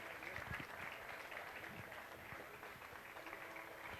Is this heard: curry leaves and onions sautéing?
no